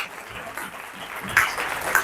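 An audience at a motivational training session claps steadily, the applause moderately loud and building slightly toward the end of the short burst.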